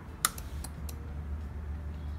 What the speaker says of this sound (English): there's like a clicking noise that's coming out every time I flip the switch on and off